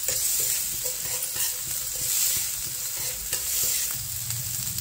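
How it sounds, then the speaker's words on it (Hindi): Mixed vegetables sautéing lightly in a pan for veg Maggi, a steady sizzle with frequent scraping stir strokes, close and fairly loud, no voices. "हल्का सॉटे कर लेंगे सारे वेजिटेबल्स को।"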